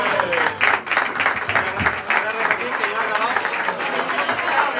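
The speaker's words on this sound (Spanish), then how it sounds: "démosles pues un aplauso" Crowd applause at a Virgen de Guadalupe pilgrimage festival as a speaker climbs the stage, sustained and dense throughout with scattered voices and cheers mixed into the clapping.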